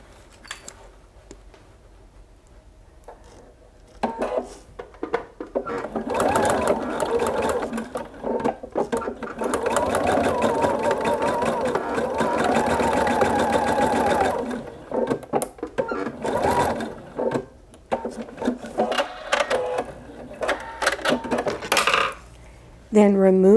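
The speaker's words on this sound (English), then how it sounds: "then stitch 1/2 inch seam along here." Sewing machine stitching a half-inch seam on fall oven mitts, running in steady whirring stretches broken by short pauses, with light clicks and rattles of metal parts near the end.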